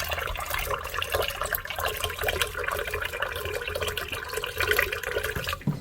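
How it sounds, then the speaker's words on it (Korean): A home water purifier dispenses a steady stream of water, running continuously and fairly close throughout while rice soaks nearby in a kitchen. "정수기입니다."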